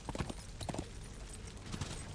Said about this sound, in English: Apparently I can also ride my horse up here